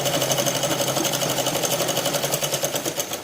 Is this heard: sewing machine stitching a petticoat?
yes